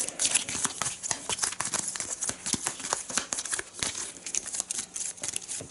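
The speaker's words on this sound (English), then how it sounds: "You shuffle them a bit." Arkham Horror 3rd edition game cards being shuffled by hand, a rapid, irregular patter of crisp card riffles and rustles, close and continuous, with no talking.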